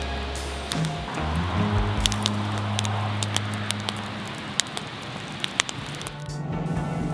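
Steady rain patters on a surface during a motorcycle trip from Oregon to California, with scattered sharp drips and splats over a low rumbling hum in the background.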